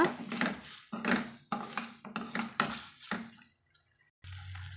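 A spoon stirs chicken pepper fry in a pan, a Tamil-style coriander-pepper chicken dish, with rhythmic scraping and clattering strokes close by, then a pause and a low steady hum.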